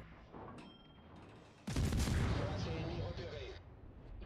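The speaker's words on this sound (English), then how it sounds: "Start shooting again." Naval guns of the Aigle, a French tier 6 destroyer in World of Warships, fire in one loud close salvo with a long rumbling tail that fades out over a couple of seconds.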